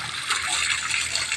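Water gushes steadily from a newly attached faucet, a continuous rushing hiss at moderate loudness with no pauses.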